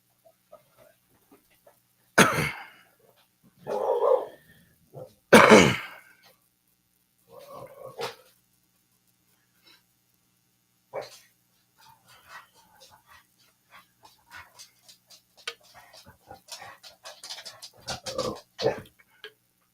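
A young dog gives scattered yips and short barks with long pauses between, some loud and close, others soft whimpers and panting.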